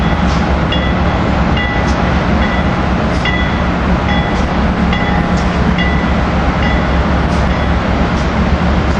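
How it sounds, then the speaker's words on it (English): An Amtrak Keystone train pulls into 30th Street station with its cab car in front and an AEM7 electric locomotive at the rear, a loud, continuous nearby roar marked by regular wheel clacks and thin squealing tones, with no talking. "Here we got Keystone Train 670 coming in, Cab Car leading, AEM7"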